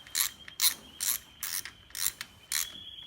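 A hand ratchet clicks through six short, evenly spaced bursts, close and crisp with brief pauses between strokes, as a sump plug is tightened on a Honda CT110 postie bike.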